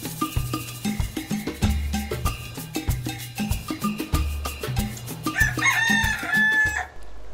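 Brahma and Araucana hens step out of the henhouse into deep snow, while a rooster crows repeatedly and chickens cluck over a steady rhythmic musical backing, close and fairly loud throughout.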